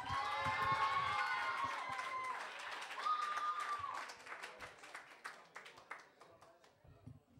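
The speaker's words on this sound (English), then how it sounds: "Do the right thing, people. Keep clapping." A comedy club audience at the Gotham Comedy Club claps and cheers as a comedian is introduced, loud whistles and shouts over applause that thins into scattered claps.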